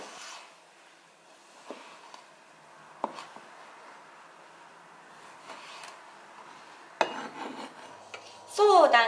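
A knife cuts ingredients for miso soup, including halved tomatoes, with a few sparse, quiet chops on a board and a louder scraping clatter at the end, no voices heard.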